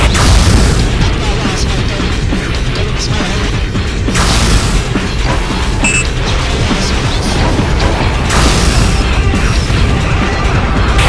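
Underwater combat in the AquaNox game, a loud sustained roar of a destroyed target's explosion with heavy booming bursts and crashing debris, continuous and dense throughout, with a voice speaking over it.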